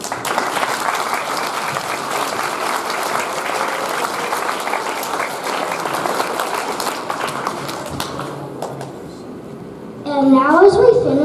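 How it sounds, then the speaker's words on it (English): A school assembly crowd gives military veterans a long, loud round of applause on Veterans Day, sustained dense clapping for about ten seconds that fades before a voice begins speaking. "giving them a big round of applause"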